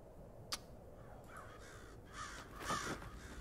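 A crow caws a few times in the video game Hello Neighbor 2, with a short sharp tap first and then hoarse calls rising in loudness over a quiet background.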